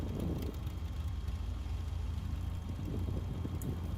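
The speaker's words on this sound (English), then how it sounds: "That's the airflow coming off the engine. Like the wind that you get off a microphone." Steady, low rumbling airflow off the engine of an SWS RV8 in a flight simulator game, a continuous windy roar like breath across a microphone, constant in loudness throughout with no talking.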